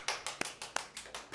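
A small meetup audience in a tech talk setting claps sparsely, a few distinct hand claps in an irregular rhythm, fairly faint and without talk.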